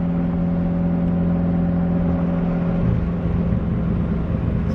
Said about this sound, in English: See down the street, see how we can make a pull, go through gears.